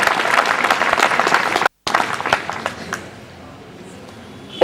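A Chalisgaon audience at a lecture-series event claps to welcome Achalpur MLA Bachchu Kadu, loud full applause that cuts out briefly, resumes, then thins away to near quiet.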